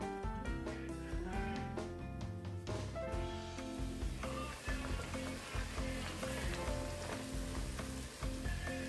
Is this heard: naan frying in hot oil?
yes